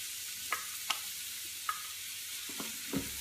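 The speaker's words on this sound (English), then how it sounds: "Stir that around." Diced sweet yellow onion sizzling in a pot for Cuban black bean soup, a steady hiss of frying with five or so light utensil taps and scrapes as it is stirred, no talking.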